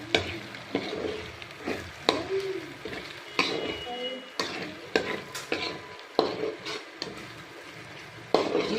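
Bay leaf, cinnamon sticks and two cloves fry in oil for a village-style paneer curry, a soft steady sizzle broken by sharp stirring clatters roughly every second.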